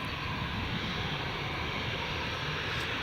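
Engine roar from an EasyJet airliner arriving from Gatwick, a steady, fairly quiet broadband rumble that stays even throughout, with no voices over it.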